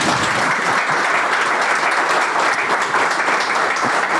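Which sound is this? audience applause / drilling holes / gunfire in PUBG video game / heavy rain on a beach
audience applause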